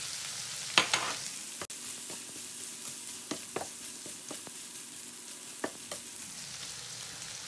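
Shrimp frying in a butter and garlic sauce, a steady close sizzle punctuated by scattered clicks and taps of a utensil stirring the pan.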